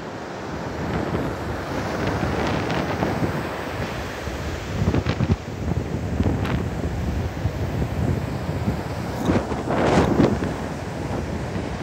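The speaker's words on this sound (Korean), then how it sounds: "여러분들 파도 한번 더 구경하십시오." Ocean waves break steadily on a sandy beach at Songjeong, with a continuous wash of surf and strong wind buffeting the microphone. Louder crashing swells rise now and then over the constant roar, and no one speaks.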